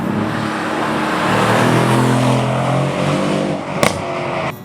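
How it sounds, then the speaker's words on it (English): A Mercedes-AMG C 63 S with its twin-turbo 4-liter V8 accelerates hard, a loud, close engine roar rising in pitch through the gears, with a sharp crackle near the end. "here we have a 4-liter V8 with 2 turbochargers"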